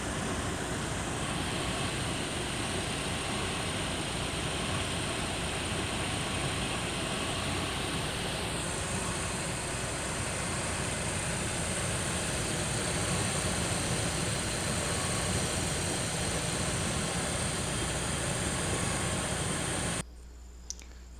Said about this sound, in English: Engine is purring like a baby.